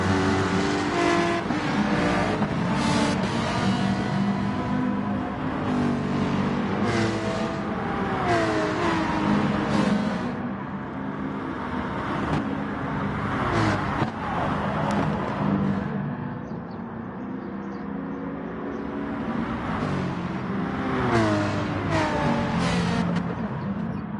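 A race car in Gran Turismo Sport tears around the Dragon Trail Gardens circuit in an FIA GT Manufacturers Series race. Its engine drones loud and steady, with the pitch rising and falling through revs and downshifts from start to finish.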